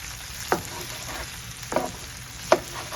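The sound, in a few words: sausage frying, broken up with a spatula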